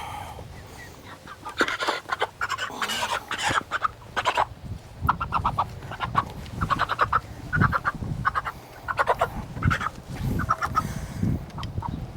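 Chickens clucking while held in a killing cone before butchering, a steady run of close, busy clucks and squawks with no talk.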